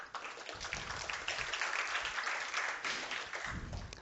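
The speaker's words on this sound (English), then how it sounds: "Let's give a big round of applause to Dan Christian Bogos." An audience at a tech conference talk applauds the incoming speaker, a steady muffled wash of clapping that holds level throughout.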